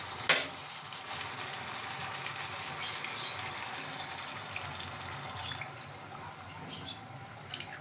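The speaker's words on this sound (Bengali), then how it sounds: "এখন আমি তরকারি ঝোলটা দিয়ে দিচ্ছি" Tomato curry broth is poured over frying shing fish, and a sharp splash gives way to a continuous, moderately loud sizzle and bubbling hiss with a few small clatters, no voices.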